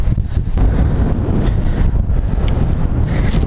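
Strong wind buffets the microphone on a very windy day of crappie fishing outdoors, a loud continuous roaring rumble with gusty swells throughout and no talk.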